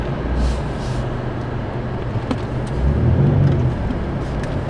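A Stage 2 tuned BMW M8 drives along with a steady, loud low engine and road drone heard from inside the car, swelling slightly near the end.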